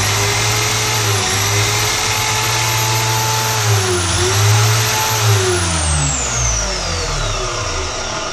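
Motor of a Parkside PTMS 180 A1 miter saw running steadily with a loud, continuous whine and tonal hum close by, shifting pitch slightly as it spins, with no talking.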